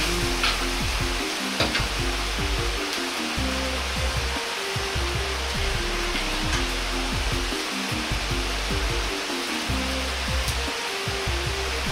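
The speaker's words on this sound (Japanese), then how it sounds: "鍋にスープを 250cc 入れ沸かします。 そこに小松菜ペーストを 150g くらい入れます。" Soup heating in a pot with komatsuna paste stirred in gives off a loud, steady bubbling hiss and sizzle that runs unbroken throughout, with occasional soft clinks.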